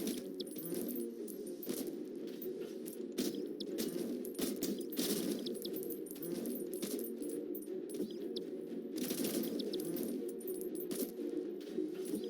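Gold coins are collected in the Clicker Heroes 2 video game, producing a continuous stream of bright metallic coin clinks and jingles over a steady game background.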